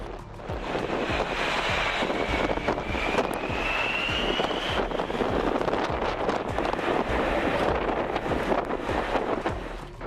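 Strong crosswind buffets the microphone at Barcelona airport as a Ruby Star 747 approaches, a dense continuous roar with gusty low thumps and a faint rising engine whine partway through.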